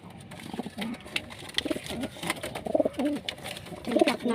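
Pigeons coo repeatedly at close range, soft throaty calls that overlap and come in bursts over a faint background.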